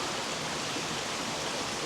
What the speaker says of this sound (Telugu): నీటి సెలయేరు.